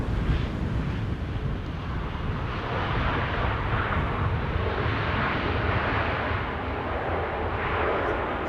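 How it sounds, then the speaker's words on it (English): Air France Airbus A220 (Bombardier C-Series 300) landing at Amsterdam Schiphol in windy weather: a steady, loud broadband jet roar with low rumble, continuous throughout, mixed with heavy wind buffeting on the microphone. "we are going to see Air France coming in with a Bombardier C-Series 300, an A220, arriving from Paris Charles de Gaulle"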